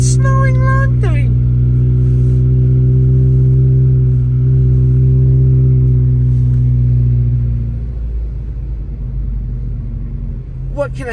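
A car drives along a snowy road around Big Bear Lake. A steady, close engine rumble with a low droning hum holds throughout and eases slightly toward the end.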